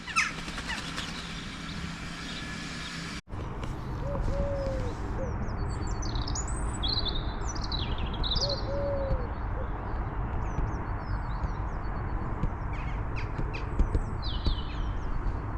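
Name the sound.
birds calling by a canal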